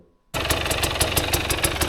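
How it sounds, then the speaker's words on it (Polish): A 2022 KTM EXC 250 TPI two-stroke dirt bike engine fires up in a garage and runs with a loud, rapid, rattly pulsing idle right after a brief silence. "Słuchajcie, KTM gotowy, odpalony, odpali od strzała."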